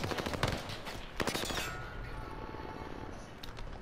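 Automatic gunfire in Call of Duty: Vanguard Warzone on Rebirth Island, with rapid bursts of shots near the start and again around the middle, followed by quieter battlefield noise and a few distant pops.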